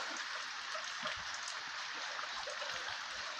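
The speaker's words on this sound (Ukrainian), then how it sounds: "Ну от, уже і в нас дощ пере." Steady rain hisses down in a continuous wash, with scattered drips and light patters on nearby surfaces.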